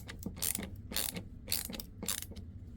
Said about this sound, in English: the ratcheting mechanism is nice and smooth. It's good. It's going down in there.